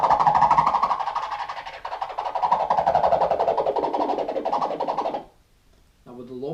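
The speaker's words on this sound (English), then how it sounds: "you can get some cool sounds by moving the filter to the high pass" A rapid, buzzing rasp scratch on a vinyl record, run through a DJ mixer with the high-pass filter engaged, sustains for about five seconds before cutting out, then briefly resumes.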